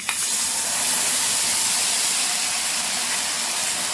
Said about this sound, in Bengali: এখন হালকা করে গ্যাসের আঁচ কমিয়ে এগুলোকে বেশ একটু হালকা হালকা করে ভেজে নেব